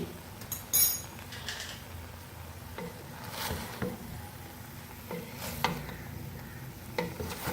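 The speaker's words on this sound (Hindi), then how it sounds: "चम्मच की मदद से थोड़ा थोड़ा मिक्स करेंगे ताकि अच्छा सा कलर आ जाए" A spoon stirring and mixing chicken jalfrezi with rice in a pot, giving soft scraping strokes and an occasional light clink over a faint sizzle, close and fairly quiet.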